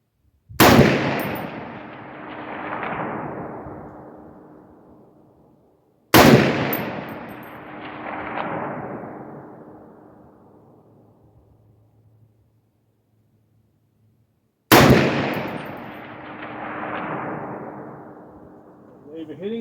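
Three distant .308 rifle shots from a SCAR 17 ring out at steel targets 550 yards away, each a sharp crack followed by a long rolling echo, spaced several seconds apart with no talk.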